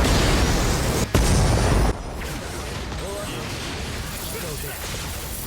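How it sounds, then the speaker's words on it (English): Soul bomb attack in the mobile game Bleach Brave Souls, a loud crashing burst that cuts off abruptly, followed by a lower, sustained crackling rumble of effects. "And so we'll go ahead and use a soul bomb here."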